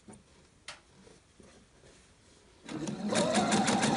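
A sewing machine stitches gathers on a ruffled dress at a 2.5 mm stitch length. After a quiet stretch with faint handling noises, it starts up and runs in a fast, steady buzzing rhythm.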